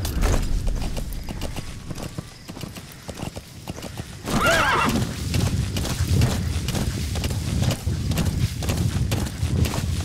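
Horse hooves clip-clop at a steady run in Metal Gear Solid V: The Phantom Pain, with a loud whinny partway through, all over a busy game soundscape of thumps and effects.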